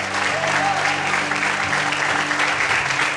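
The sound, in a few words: congregation applauding the Lord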